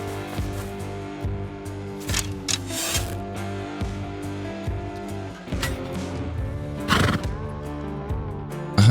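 Horse in the game Rust Console Edition, repeated loud neighs and whinnies close by, mixed with clip-clop hoof steps and rubbing sounds over a low hum.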